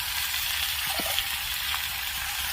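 Thuthuvalai leaves sauté in a hot pan, giving a steady, close sizzle and crackle with a faint stir or two partway through. No voices are heard.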